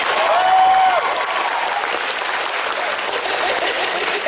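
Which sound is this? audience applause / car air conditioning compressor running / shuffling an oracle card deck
audience applause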